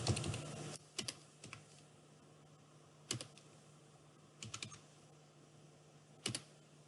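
Someone types a paragraph on a computer keyboard in a quiet room, with short bursts of clicking keys separated by pauses, close and clear with no talking.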